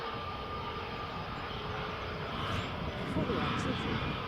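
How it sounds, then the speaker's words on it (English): A British Airways airliner taxiing at Edinburgh Airport gives a steady, distant jet engine rumble and whine throughout, swelling slightly toward the end, with outdoor background noise. "British Airways just taxiing out there now."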